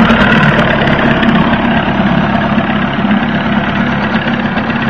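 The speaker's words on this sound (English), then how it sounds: "Smooth running outboard." A 1981 Evinrude 35 hp long-shaft outboard motor with electric start runs steadily, loud and close, a continuous even drone with no voices over it.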